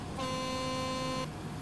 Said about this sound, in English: Have an air horn hidden away somewhere